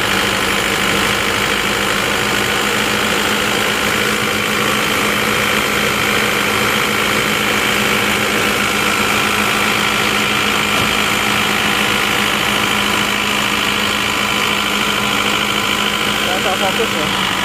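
An Isuzu Panther LS with an automatic transmission that has been repaired repeatedly runs with a steady, loud engine drone and vibration close by, while people talk over it.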